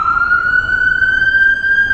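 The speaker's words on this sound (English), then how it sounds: "A lot of sirens today." Emergency vehicle siren sounding along a street near Coney Island, New York on July 4th, a steady rising tone that holds loud and continuous, with a low street rumble underneath.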